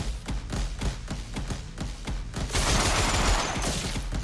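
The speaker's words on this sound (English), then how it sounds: "These dudes are shooting at nothing." Rapid gunfire from the VR shooter Reficul VR, a steady run of sharp shots that builds into a dense, loud wash of fire toward the end, with no talking.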